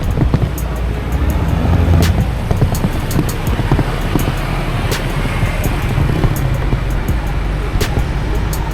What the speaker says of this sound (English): You got traffic coming this way with buses and cars, traffic coming from the front of us, and traffic going this way.